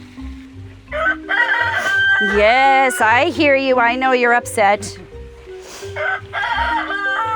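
A rooster crows loudly and up close with a long, wavering call, while a person talks calmly over and around it.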